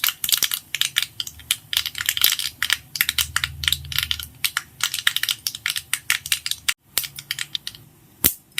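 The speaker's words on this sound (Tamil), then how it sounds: "இப்போ பாருங்கள், கடுகு பொரிஞ்சு முடிஞ்சிடுச்சு." Mustard seeds splutter in hot oil while a chutney tempering is being made. The close, dense crackles and sharp pops come in rapid bursts with no talking.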